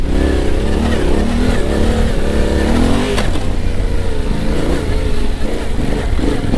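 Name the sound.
Yamaha Tenere 700 motorcycle riding on the trail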